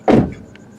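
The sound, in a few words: Toyota Corolla Apex car doors closing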